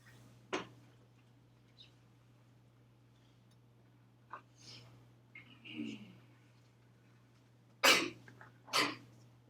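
Several sharp, brief bursts break a quiet classroom during a maths lesson, with one loud sneeze-like burst near the end followed by another close behind, among scattered coughs and soft throat noises, no speech.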